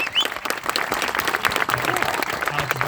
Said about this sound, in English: And how about a round of applause for the newlyweds?